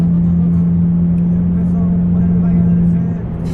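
A loud Dodge car's engine drones steadily up close, a constant low hum that dips slightly near the end.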